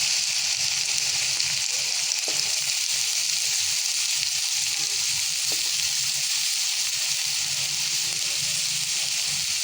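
Chopped banana flower and potato fry in hot oil, giving a loud, constant sizzle that stays close and steady throughout, broken by a couple of faint clicks and with no talk.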